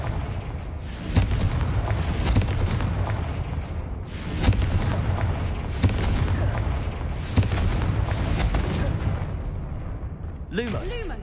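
Confringo fire spell blasts in a Harry Potter video game, a run of loud booming explosions with several bursts repeating over dense game sound, and a voice speaking among them.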